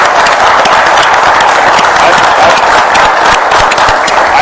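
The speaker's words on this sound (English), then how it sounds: "if we can give them a round of applause" Sustained, dense applause from an audience at a city council meeting, loud and steady throughout with no pauses.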